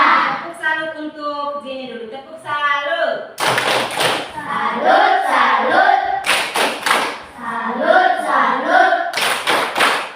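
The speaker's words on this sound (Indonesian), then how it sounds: "Tepuk salut untuk Gini dulu." Children perform the Indonesian 'tepuk salut' clapping chant in a class, sung voices alternating with sharp bursts of rhythmic group claps that land in close, loud clusters.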